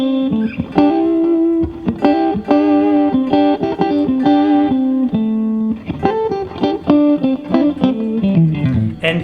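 Electric guitar played two notes at a time in a melodic, singing style, with clear sustained double-stops and short runs, loud and alone with a touch of effects and reverb.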